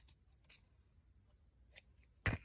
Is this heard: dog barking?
no